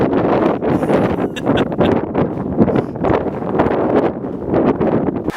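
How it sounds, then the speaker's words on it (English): Strong desert wind gusts through Joshua Tree National Park, roaring and buffeting the microphone in loud, uneven surges that keep rising and falling without a break. "The wind has been brutal."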